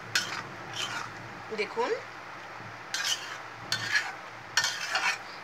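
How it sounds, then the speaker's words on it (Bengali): Spiced dried loitta fish being stirred in a pan, giving a few soft scraping and sizzling bursts close by, separated by short pauses, with a brief spoken word. "এখন মশলাগুলি আমি ভালো করে শুটকির সাথে মিশিয়ে দেব।"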